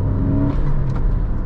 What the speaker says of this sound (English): this car just, like, whips right up to speed without any real issues